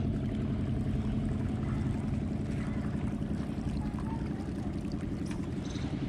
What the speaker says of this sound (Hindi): देखा तो वह लोगों का स्टीमर चला था बहुत तेजी से